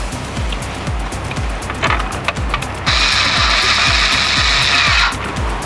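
A power tool drives screws while an Android head unit is fitted into an FJ Cruiser dash, giving a loud steady whirring run that rises to a harsher, brighter burst partway through, over a rapid rhythmic ticking, with no talk.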